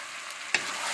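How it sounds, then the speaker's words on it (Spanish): Sweet paprika frying in a pot for lentil stew, a soft, steady sizzle with one brief scrape as it is stirred, quiet and close. "Lo movemos todo. Con cuidado de que no se queme el pimentón"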